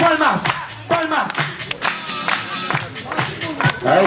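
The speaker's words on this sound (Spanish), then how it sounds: "Everybody clapping, clapping, palmas, palmas, palmas, palmas, palmas." Crowd clapping along at a lively show, the claps coming in loose rhythmic bursts over background voices and music, fairly close and steady.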